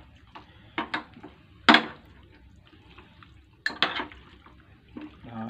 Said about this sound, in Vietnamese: Trộn đều đi cho nó thấm gia vị.